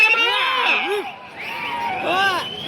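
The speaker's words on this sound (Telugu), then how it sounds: "కేకలయ్యాల చప్పట్లు కట్టాలి" Crowd shouting and cheering at a bull competition in Nagarkurnool, Telangana, with excited voices and children's calls rising and falling close by; clapping is not clearly distinct.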